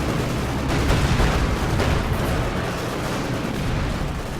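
Bombs strike enemy units in the video game Company of Heroes 2, a dense, continuous barrage of heavy booming explosions rumbling loudly for several seconds.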